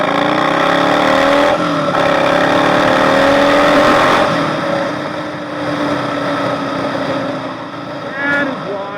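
Yamaha Bolt motorcycle pulling away at about 30% throttle on a residential street, its engine note rising through the revs and then easing off, loud and close, with a person talking over it.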